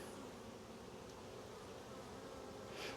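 Honey bees, probably Carniolans, hum steadily around an opened hive during an inspection, a dense, close, continuous buzz with no talking.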